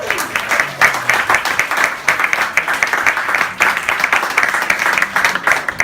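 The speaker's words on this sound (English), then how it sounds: "Let's get a big round of applause." A big round of applause from an audience at a volunteer appreciation gathering, with brisk clapping from a moderate crowd that rises and falls in waves and stays fairly close and loud.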